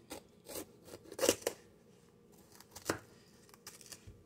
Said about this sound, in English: What I do is I go around here and I cut around the ribs.